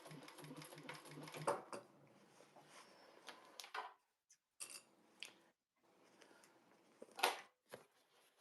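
Home sewing machine top stitching a handmade fabric bag, running in several bursts of steady rapid stitching with brief pauses between, close and fairly quiet.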